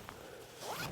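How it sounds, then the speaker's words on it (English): The zipper on a DEWBU 5-zone heated jacket pocket is pulled shut: one quick, faint, close zipping rasp that rises toward the end, heard alone. "zip it shut"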